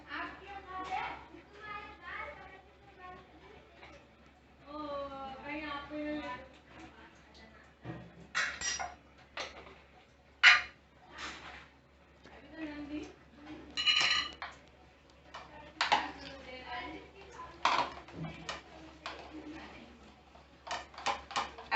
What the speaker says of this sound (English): I'll mix the batter very properly and let it rest for about 2 minutes